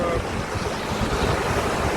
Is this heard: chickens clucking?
no